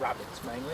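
Dogs out on a walk along a field hedge give a short yip or bark near the start, followed by whimpering. A person talks over it, and the whole sound is brief and close.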